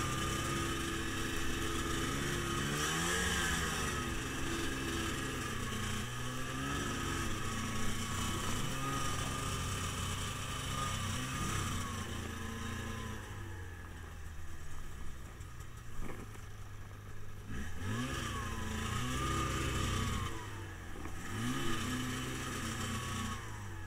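A motorcycle engine drones on as the rider moves along near hermit huts, rising and falling in pitch with throttle changes, steady and fairly close with no talk.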